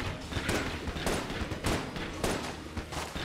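Rapid repeated gunfire crackles in the Enter the Gungeon shooter game, with bursts of shots coming at an irregular rhythm over a busy, dense background of game noise.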